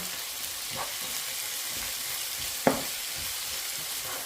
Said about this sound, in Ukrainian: І жарю усе разом.